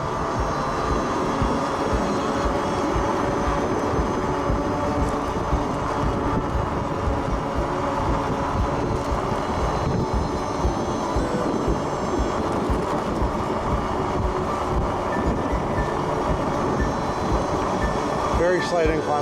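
A Lectric XP e-bike climbs a slight incline on throttle alone. Its steady motor whine sits under constant close wind and road rush for the whole ride, with no pauses.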